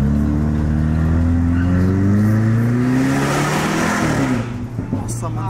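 A Jaguar car's engine revs loudly and close, its pitch climbing steadily across several seconds before easing off, with people talking over it.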